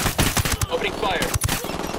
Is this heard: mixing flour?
no